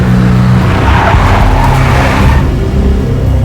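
A big black Mercedes skids loudly in the Max Payne video game, with a dense, sustained roar of tires and engine that fades slightly toward the end.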